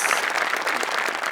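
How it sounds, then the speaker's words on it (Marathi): A studio audience applauds on a Marathi comedy sketch show, dense steady clapping filling the whole moment at a lively, even level with no voices over it. "हरीश कसपटेंसाठी पण एकदा टाळ्या"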